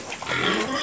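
A pig, one of a farm's hogs with ringworm, gives a short rough grunt, close and fairly loud.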